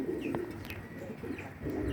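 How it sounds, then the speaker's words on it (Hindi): A pigeon, a high-flyer and racer bird, cooing in soft low throaty calls over steady background noise, with faint chirps nearby. "कमगर कबूतर है जी ये।"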